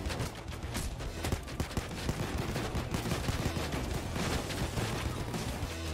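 Dense, nonstop gunfire from a weapon in the video game Payday 2, rapid shots piling into a loud, continuous barrage with no pauses.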